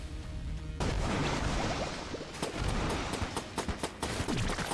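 A makeshift cannon firing in Enter the Gungeon, with loud booming shots and bursts over heavy continuous game noise, ending in a regular run of sharp repeated blasts.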